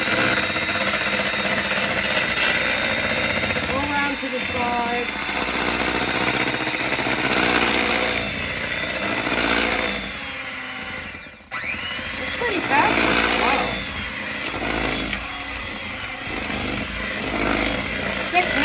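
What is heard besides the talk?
electric hand mixer mixing batter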